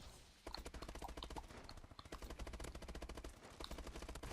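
Rapid automatic gunfire from a Call of Duty Advanced Warfare match, steady bursts of shots close and loud that run almost continuously after a short quiet opening.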